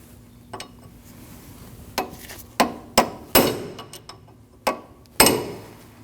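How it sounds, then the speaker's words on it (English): Hammer peening an axle nut into the axle cutout on a 2003-2008 Subaru Forester, several sharp metallic strikes spaced irregularly, close and ringing, with lighter taps between them and no talk. "you want to peen your nut into that cutout"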